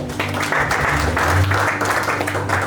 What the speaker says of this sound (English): Clap for our elder.